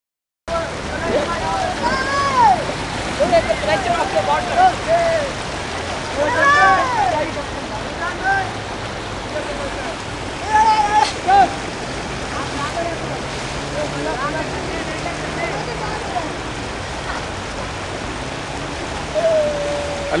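Floodwater rushing and pushing under pressure in Bhitaiabad, Karachi, a steady, close wash of flowing water that runs throughout, with someone talking over it.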